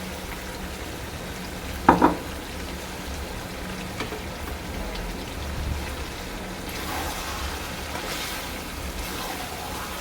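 Pointed gourd (potol) pieces fry in oil released from cooking meat, giving a steady, rain-like sizzle throughout with a brief utensil clatter early on, close by and without talk.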